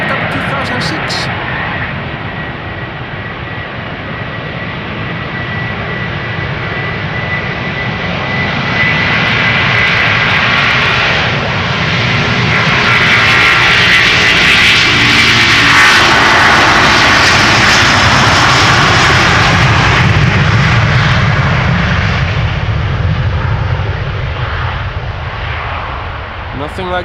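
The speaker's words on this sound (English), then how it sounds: "Delta Airlines Flight 161 to Minneapolis, Minnesota. A330 300." A Delta Air Lines Airbus A330-300, first flown in October 2006, roars at Amsterdam Schiphol Airport as its jet engines spool up into a loud, continuous rumble that swells and peaks midway before easing slightly.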